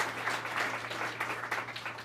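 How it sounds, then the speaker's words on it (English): Audience applause at a Toronto economic development announcement, a brief steady patter of clapping at moderate distance, with a low hum underneath. "So please, a big round of applause for these two very important leaders."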